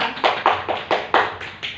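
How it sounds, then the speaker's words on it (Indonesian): A classroom of students claps for a classmate, a short run of about eight distinct, evenly spaced claps, close and fairly loud, with no talking. "silakan kembali beri tepuk tangan untuk Rica"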